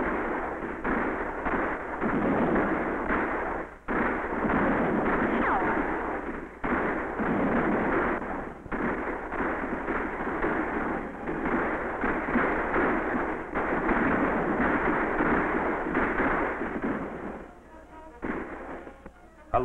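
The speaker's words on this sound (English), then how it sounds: "62 Southern cannon were posted opposite the sunken road by General Daniel Ruggles, and they opened a devastating fire on the Hornet's Nest." Massed Confederate cannon fire in a 1956 Civil War film about Shiloh keeps up a loud, dense roar of overlapping booms with only brief gaps, continuing almost without pause before thinning out near the end.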